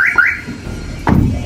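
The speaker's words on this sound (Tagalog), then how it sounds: "Yan, mag-alarm." A Nissan NV350 van's alarm sounds in short electronic chirps, a pair of rising tones followed by another burst, loud and close with no talking.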